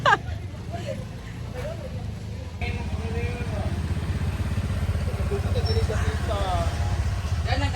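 Motorcycles ridden by a small group on a hot day, a steady engine drone with road rumble that grows louder partway through, while people talk and chatter over it.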